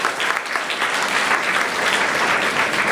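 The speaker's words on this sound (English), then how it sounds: "Once again, a round of applause." Delegates at a model UN general assembly closing session clap in a sustained, even round of applause that holds loud and steady throughout, with no talk over it.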